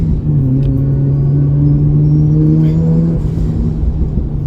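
A loud turbocharged car engine accelerates, droning steadily and close, a deep rumbling tone holding under a faint airy whoosh of turbo intake, easing slightly near the end.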